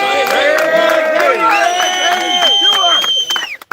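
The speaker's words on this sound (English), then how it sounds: "Want all of you to give her a big cheer from us, right?" An outdoor crowd at Phoenix Park cheering for Olympian Kellie Harrington, a loud burst of whoops, yells and shouting voices layered over one another, fading out abruptly at the end.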